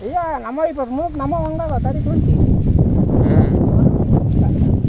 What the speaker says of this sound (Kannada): ಗಾಳಿ ಜಾಸ್ತಿ ಐತಿ.